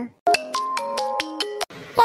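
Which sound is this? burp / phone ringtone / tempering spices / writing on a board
phone ringtone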